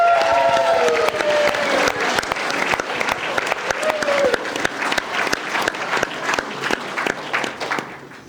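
Sustained applause from an audience at a science-communication competition final, a dense crowd of clapping hands with some faint voices mixed in, steady and fairly loud throughout.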